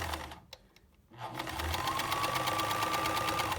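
A sewing machine stitching a skirt seam runs close and steady after a short quiet pause, giving a rapid, even mechanical whirr with a regular stitching pulse.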